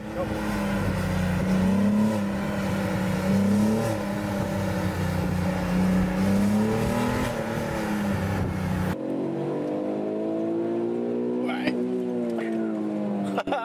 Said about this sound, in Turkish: Acayip homurtulu, hoş bir sesi var arabanın.